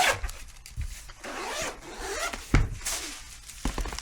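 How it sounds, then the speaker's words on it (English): A pink zipper on a VaultX card binder is pulled open in several short, close rasping runs, with rustling handling noises and soft bumps between the zips. "Ooh, pink zipper."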